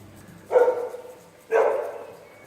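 A dog barks twice outdoors in a town street, two separate mid-pitched woofs about a second apart, moderately close and loud over quiet background.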